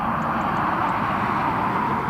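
An EasyJet airliner passes overhead at Newcastle Airport, a loud, continuous broadband engine roar that holds steady throughout with no voices.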